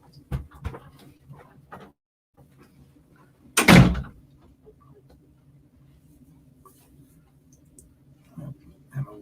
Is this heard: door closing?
yes